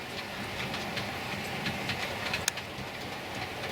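A long model train of coaches and bogies hauled by a class 68 locomotive runs along the track with a steady, faint rolling rumble and light rhythmic clicks.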